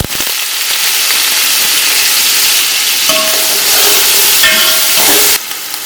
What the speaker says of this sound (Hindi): अपने ग्राइंड के मसाले भी डाल रहे हैं हम। अच्छी तरह भुनाई करेंगे।